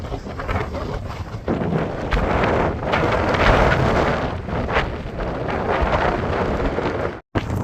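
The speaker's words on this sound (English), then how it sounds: "It's a bit windy." Strong wind buffets the microphone in a steady, roaring rush with gusty swells during a storm, loud and close throughout, no voices.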